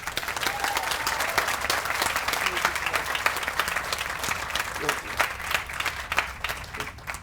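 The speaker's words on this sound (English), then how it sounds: "If we could please give them a round of applause." Audience applause at an outdoor community garden party, a steady broadband wash of many hands clapping throughout, fairly close and continuous with a faint murmur of voices underneath.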